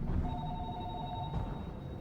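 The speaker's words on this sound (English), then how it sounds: "It's just a little traditional phone." A traditional telephone ringing in the underwater survival game Narcosis, one sustained electronic ring burst lasting about a second amid low rumbling ambience.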